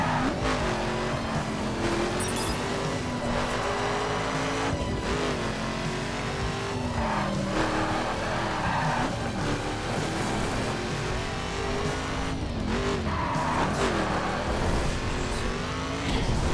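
A race car engine in The Crew video game drones steadily and loudly, its pitch rising and swooping with gear changes while tires squeal and skid through corners. No one talks.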